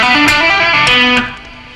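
Distorted electric guitar runs a rock scale with hammer-ons and pull-offs ending on B, a quick flowing string of notes that ends in a fading ring, with no one talking.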